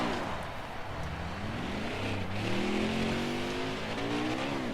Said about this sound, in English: It's burnout time, baby.